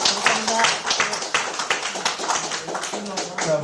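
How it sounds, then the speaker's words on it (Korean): A small group claps in encouragement for a party leadership candidate during a livestreamed political broadcast, scattered and uneven clapping running throughout with some background chatter mixed in. "우리 이영 최고위원 후보에게 큰 격려의 박수"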